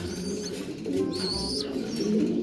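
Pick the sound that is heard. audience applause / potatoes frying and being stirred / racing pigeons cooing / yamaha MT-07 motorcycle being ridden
racing pigeons cooing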